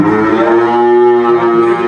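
A dairy cow lows in one long, loud, steady moo lasting the whole moment, close by, on a farm where cows and calves are kept.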